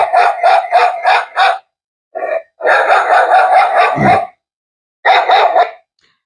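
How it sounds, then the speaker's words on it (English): A recorded dog-bark sound from a home smart siren barks repeatedly in quick bursts, loud and close, with short pauses and one drawn-out yelp in the middle. "This one is the dog one."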